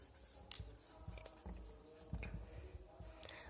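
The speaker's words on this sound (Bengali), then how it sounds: "এখানে লিখে দিচ্ছি" Someone writes on a board during a class-seven geography lesson, making short scratchy strokes and taps in uneven bursts. The strokes are fairly faint and close, with no talking over them.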